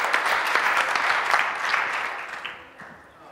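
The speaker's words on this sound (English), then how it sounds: "Big round of applause for" An audience at a storytelling and presentation skills chapter meeting claps for Paul as he comes up, a dense even round of applause that stays strong, then thins and fades over the last second.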